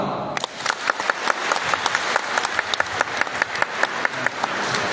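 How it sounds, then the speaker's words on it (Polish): Audience applause at a school spring-day assembly in Łuków, steady clapping from a crowd that starts after a brief pause and keeps going at an even level throughout, with sharp individual claps standing out. "prosimy o brawo"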